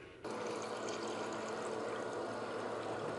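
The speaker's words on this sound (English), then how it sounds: "And then I'm gonna top it off with some just cold water." Cold water poured from above into a glass with a little ice, a steady close splashing fill that starts abruptly and runs unbroken with no talk.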